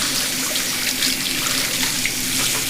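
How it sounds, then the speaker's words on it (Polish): Tap water pours steadily into a sink while hands are washed, a continuous close hiss and splash with no talking. "Myję ręce."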